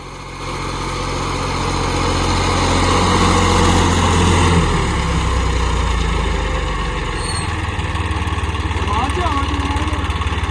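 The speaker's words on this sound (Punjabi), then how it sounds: "ਸੁੱਤਾ ਪਿਆ ਚੱਲਦਾ ਇੰਜਣ" A John Deere 5310 4x4 tractor engine runs steadily close by, a loud continuous low rumble throughout, with a faint whistle-like tone late on.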